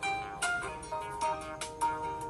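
A melodic electronic ringtone plays softly, a short tinkling tune of bright tones shifting every half second or so, with no one speaking.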